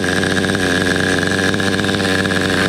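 A small nitro engine in a Schumacher Havoc 28 Big Block RC stunt truck with dual exhaust idles steadily, a loud, buzzy, high-revving drone that stays constant throughout.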